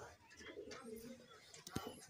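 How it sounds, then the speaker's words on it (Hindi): A Punjabi pigeon hen, sitting on an egg among other pigeons, coos softly over a busy background of other bird chirps and a sharp knock near the end. "एक ये रही पंजाबी कबूतरी"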